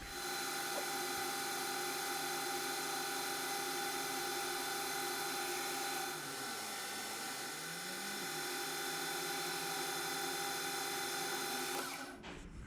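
A metal lathe lightly faces off a dividing head backplate, a steady mechanical whine with tonal hum running continuously for about twelve seconds before stopping, no talking.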